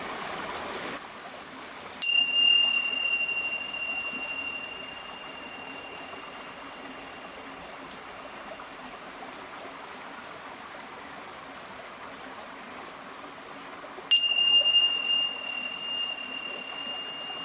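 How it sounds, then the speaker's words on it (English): Tibetan bells ring twice, each a bright metallic strike with a long, pure, sustained ringing tone that slowly fades, spaced well apart over a steady background hiss. "Ian's got some Tibetan bells."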